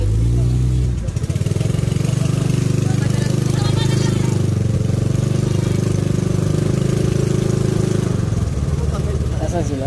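A motor scooter engine idles with a low, steady rumble close by at a park entrance in Tagaytay, Philippines, while voices talk over it.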